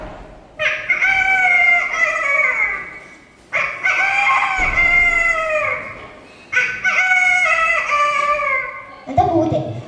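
A man imitates a rooster with his voice, giving three long, loud crowing calls in a row, each rising and then trailing off, with a short vocal sound at the end.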